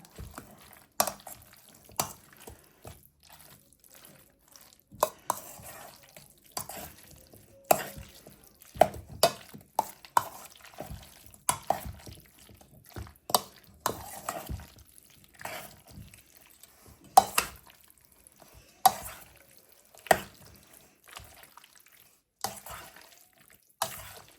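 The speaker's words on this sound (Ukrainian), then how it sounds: "Гарненько, гарненько все вимішуємо." Chicken heart salad being stirred and mixed in a bowl, heard as a long run of irregular clinks, scrapes and soft squelches from a utensil, close and fairly quiet, with sharper knocks scattered throughout and no talk.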